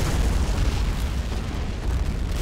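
A game explosion from a Merkava tank firing on the enemy, a dense, continuous rumbling boom that fills the whole stretch with heavy low-end roar and no voices.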